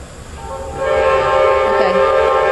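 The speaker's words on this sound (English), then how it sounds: "Then he's gonna honk his horn." A freight or passenger train rolls past at a rail crossing in Chesterfield, Virginia, sounding its horn in a loud, sustained multi-tone chord that swells in from a steady rumble and holds close by.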